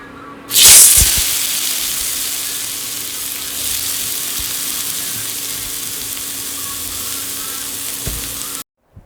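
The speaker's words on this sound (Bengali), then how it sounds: "ওই ঝালটার মধ্যেই না আজকে মাছটা যে ভাজছি" Fish frying in a pan for a spicy curry, with a sharp burst of sizzling as it hits the oil, then a steady, loud hiss and crackle that continues alone before cutting off at the end.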